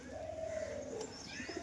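Performing Matraj racing pigeons coo, a soft drawn-out throaty call near and fairly faint, with a few light chirps and background rustle and no talk.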